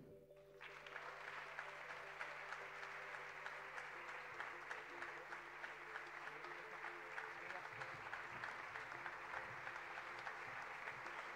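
A concert audience at a choir's tenth-anniversary show welcomes the conductor with loud sustained applause, a dense, even wash of clapping that starts abruptly and continues over a steady low hum.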